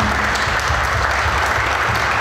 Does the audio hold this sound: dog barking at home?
no